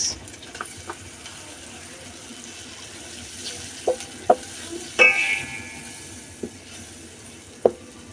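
Prawns cooking down with onions and spices in a pan, a low background sizzle broken by a handful of separate stirring scrapes and knocks, one longer scraping stroke in the middle.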